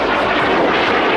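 PC-7 training aircraft of an Austrian display team flying over an air show, a loud, steady broadband propeller-engine roar filling the whole moment without a break.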